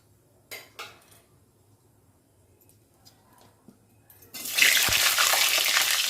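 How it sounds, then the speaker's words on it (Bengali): Cut potatoes drop into hot oil in a kadai, bursting into a loud, steady sizzle that follows a few clanks of utensils against the pan. "এবার কেটে রাখা আলুগুলো দিয়ে দেবো।"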